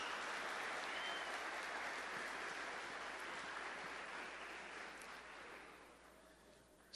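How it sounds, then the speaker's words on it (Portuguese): A large audience at a Catholic sanctuary applauds for Padre Jonas, a broad, even roar of clapping that holds for several seconds before slowly fading, heard somewhat distant and soft. "Uma salva de palmas para o nosso querido Padre Jonas."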